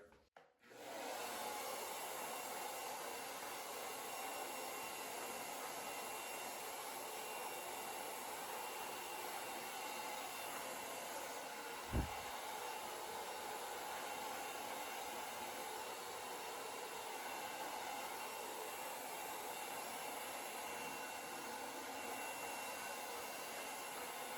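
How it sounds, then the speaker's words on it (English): A hair dryer runs continuously at close range, a steady broadband whoosh with a constant high whine, blowing hair for a beard styling, with one brief knock midway and no speech. "you'll notice me blow drying this corner in an upwards motion"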